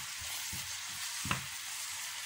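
Onion fries in a pan while being stirred, a soft, continuous sizzle with a few quiet scrapes from the stirring and one slightly sharper knock; faint and with no talking.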